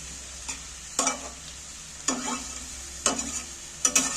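Chicken mixed with yogurt stirred in hot oil for biryani: a steady sizzle broken by several sharp spatula scrapes roughly once a second, close up and without talk.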